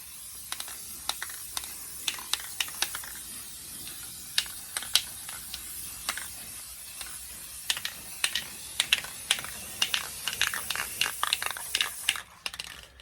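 Black spray paint applied to the rust-treated body of a VW Beetle near the engine compartment, a thin steady hiss with many sharp clicks and taps in irregular succession, close and moderately loud.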